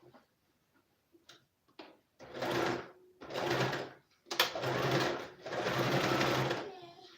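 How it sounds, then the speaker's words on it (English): Sewing machine stitching fabric in several rhythmic bursts of a second or so each, close and clear, separated by short pauses and light handling clicks. "I want to stitch it."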